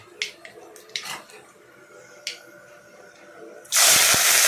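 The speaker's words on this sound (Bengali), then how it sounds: "তেল দিয়ে গরম করলাম তার মধ্যে কালো জিরে দিলাম" A few faint clicks and taps come first, then a sudden loud, sustained hiss as something hits hot oil in a wok, where nigella seeds are sizzling, close and harsh.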